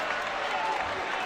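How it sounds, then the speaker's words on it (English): Scattered clapping from a Missouri basketball bench during a college game against Kentucky, steady and moderately loud for a moment against broadband arena noise. "Missouri bench applauding. Dennis Gates is applauding, and Gates is telling his guys, you need to applaud as well."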